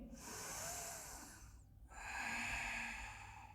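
Two long, airy breaths drawn in during a yoga session, close and steady, with a short pause between them and no talking.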